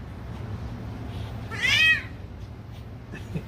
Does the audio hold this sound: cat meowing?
yes